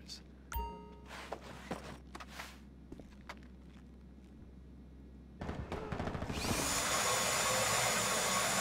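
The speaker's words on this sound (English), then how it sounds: "I can drill the lockers." Power drill in GTA Online whining steadily on factory lockers, loud and sustained in the final seconds after scattered footsteps and clanks.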